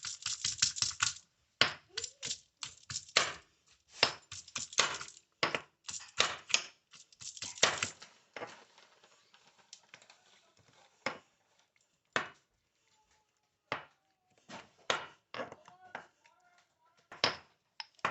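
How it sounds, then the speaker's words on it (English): Strawberries crushed with a mortar and pestle for a strawberry jasmine rose milk tea, sharp close tapping and clacking strikes in uneven bursts, dense at first and then sparser, with no talking. "I'm using this beautiful mortar and pestle to crush down these strawberries."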